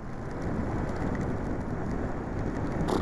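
Steady rain during a city bike ride, a dense broadband hiss with a low rumble, likely wind and nearby traffic, holding constant and fairly loud throughout, with no voices.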